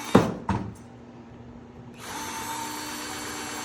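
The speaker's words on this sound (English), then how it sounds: "we're gonna drill the holes right where I said." Two sharp knocks, a short pause, then a power drill starts up and whirs steadily at close range, drilling holes in a deer antler plaque on a workbench.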